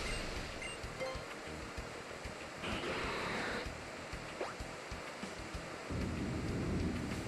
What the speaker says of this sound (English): the heavy rain feels more threatening than the intense sun from Groudon